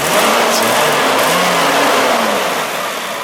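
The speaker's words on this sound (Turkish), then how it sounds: "bir gaz ver bir de sesini duyalım" A Mercedes S320 W140 3.2 V6 engine revs loudly and steadily close up, the pitch rising and settling in a continuous throaty roar.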